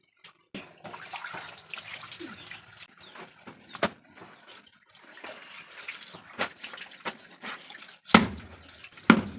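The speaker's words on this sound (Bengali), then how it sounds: "ভাত হতে হতে এদিকে আমি কাপড়টা ধুয়ে নিচ্ছি" Clothes being washed by hand in water at home, with irregular splashes, drips and wet rubbing throughout, and a few louder sloshes near the end; no talking.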